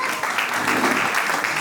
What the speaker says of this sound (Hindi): सोमेश जी के लिए बहुत जोरदार तालियां हो जाए